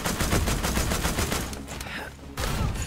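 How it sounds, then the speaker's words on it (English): Rapid automatic gunfire aimed at a tank in The Walking Dead Destinies, loud and close with evenly spaced shots, briefly pausing before another burst resumes. "Let me just keep shooting the tank."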